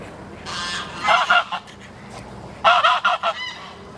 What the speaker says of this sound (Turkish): burası kazların olduğu yer